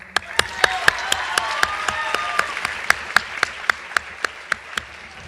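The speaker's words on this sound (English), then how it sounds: "give a round of applause for them" An audience applauds at a high school JROTC awards ceremony: a thin round of sharp, separate claps from a modest crowd, spaced out and tapering toward the end, heard at moderate distance over a soft room murmur.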